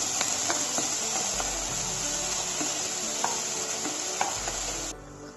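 Two tomatoes go into a hot kadai for restaurant-style kadai paneer, setting off a steady, close, loud sizzle and frying hiss, with occasional scraping stir clicks, before the sizzling suddenly drops away near the end.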